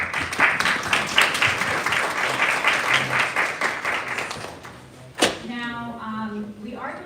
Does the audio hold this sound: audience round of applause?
yes